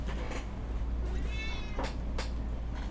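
A cat meows once, a short rising and falling call heard midway over a constant low hum and background noise, with a few soft knocks before and after.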